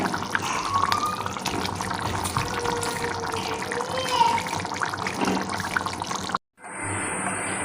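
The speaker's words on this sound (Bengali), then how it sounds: "এবার আমি জল দিয়ে দিচ্ছি।" Water pours steadily into a cooking pot of potato and fried yam curry, a continuous close splashing rush that cuts off abruptly near the end, followed by a faint hiss.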